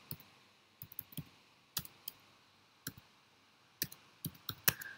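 A computer keyboard is tapped in scattered, sharp keystrokes, with single presses and small clusters spaced by pauses, close and fairly quiet with no one speaking.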